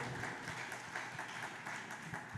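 Church congregation clapping loudly in praise during a worship service, a continuous, dense patter of many hands at moderate distance with no talking.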